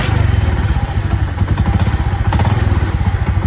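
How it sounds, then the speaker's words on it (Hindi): A new motorcycle fires up on the first kick and is revved, its engine throbbing loudly and steadily close to the microphone with no voices. "पहली किक में जो है ना वो स्टार्ट हो गई है।"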